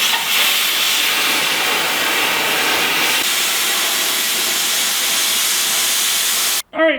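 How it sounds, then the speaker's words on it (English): Steady, loud crackling hiss of welding stiffener bars onto a cheap Chinese rock crusher, continuous for several seconds before a sudden brief cut and a short burst of other noise at the end. "I think. And then some other kind of stiffener bars. I think this is going to work pretty awesome. Just gonna weld it up."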